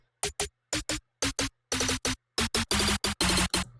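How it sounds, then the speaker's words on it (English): Snare roll from a trap drum kit programmed in FL Studio for a trap metal beat, heard as a dozen or so sharp, loud bursts in short stuttering pairs and clusters that speed up and run together toward the end. "And then I have this snare roll"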